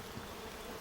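Honey bees hum with a faint, steady, dense buzz at a beehive belonging to a beekeeper, heard alone for under a second.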